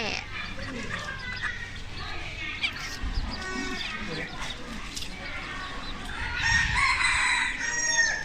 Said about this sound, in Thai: ไก่แจ้